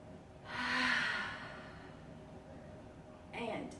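A deep breath taken during a yoga session, a close, breathy inhale swelling and fading early on, then a shorter breath near the end.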